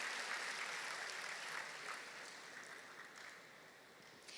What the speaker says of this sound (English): Give a big round of applause for these brave people here.